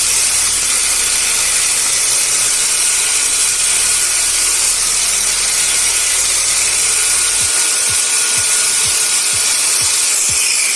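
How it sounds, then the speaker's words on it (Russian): Cordless angle grinder running on a homemade Makita-style 18V battery pack, giving a loud, steady, broadband whirring roar with a hissing edge that continues without a break from start to finish, with no voices. "Болгарка неплохая, но работает ощутимо громче, чем сетевые болгарки."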